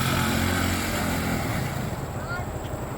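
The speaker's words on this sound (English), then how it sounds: "Little John Henderson Jr. whipping his quad around." Quad ATV engine buzzing as it is ridden around, a loud droning motor mixed with wind rush, fading slightly toward the end.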